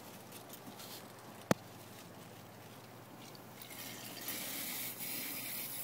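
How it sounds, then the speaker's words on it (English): Sprayers in a hydroponic bell pepper system switch on and mist water onto plant roots, a faint steady hiss that swells and grows brighter in the last seconds, with one sharp click near the start. "Here, the system just kicked on. Sprayers spraying the roots."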